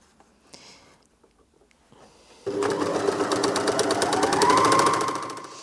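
A Janome MyLock 454D overlocker stitching thick fabric. Faint handling noises come first, then the machine starts abruptly into a loud, fast, steady rhythmic whir that carries on to the end.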